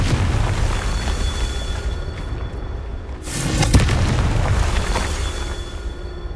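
A Confringo spell explosion in the video game Hogwarts Legacy: a loud booming burst erupts partway through, rising out of a steady, roaring wash of in-game noise that carries on afterward.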